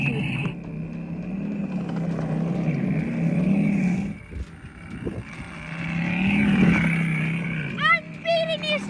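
A small off-road motorcycle engine drones steadily, its pitch swelling and dipping as it rides, with wind buffeting the microphone and children's voices chattering over it.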